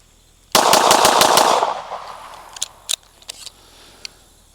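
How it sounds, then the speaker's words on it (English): A Fusion Firearms XP-Pro 2011 pistol firing 124 grain ammunition at a range lets off a rapid string of about six loud, sharp shots, followed by scattered fainter clicks and distant shots. "We are still shooting the STV 124 grain out of both guns."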